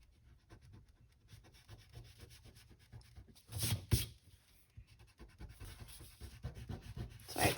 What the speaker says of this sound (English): So I can erase this one.